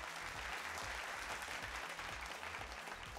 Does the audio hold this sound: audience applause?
yes